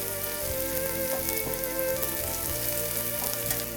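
Onions browning in a pan for a chicken curry, a steady dense sizzle and crackle of frying that holds evenly throughout, with a faint tonal hum underneath and no talk.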